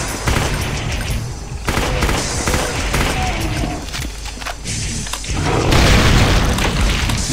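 Pistol fire in the first-person shooter Brutal Doom, a loud steady barrage of gunshots and booming explosions filling the whole stretch, with game noise and no clear talk.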